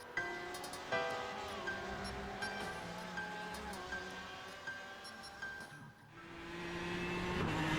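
A GT race car in a sim racing game at Road Atlanta, heard from onboard as a steady engine drone with gear changes and shifting pitch. The tone drops briefly near the end, then the revs climb again.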